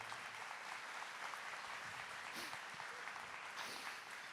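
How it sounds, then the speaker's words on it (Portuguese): A morning church gathering applauds for Saint Helena Guerra, a dense, steady spatter of clapping hands sustained evenly from start to finish, without talk. "Palmas para ela."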